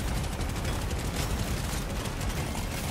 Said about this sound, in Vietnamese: Là mấy cái cây plasma nó bắn hết rồi.